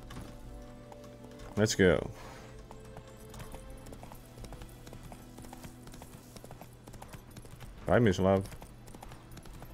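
Roach the horse in The Witcher 3 clip-clops with a steady rhythm of hooves throughout, faint to moderate, with two brief snorting whinny-like bursts and a short spoken exchange.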